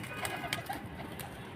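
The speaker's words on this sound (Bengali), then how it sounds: "এই যে কবুতরগুলোকে খাওয়াইতেছি" Pigeons being fed at night under a light outdoors give faint, soft cooing and brief wing or movement sounds, heard quietly against low background noise.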